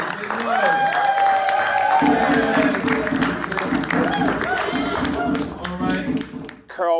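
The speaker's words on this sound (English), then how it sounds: "Everybody applaud now." An audience at a Kwanzaa celebration claps and cheers loudly and continuously, a dense wash of hand claps mixed with shouting voices and whoops throughout.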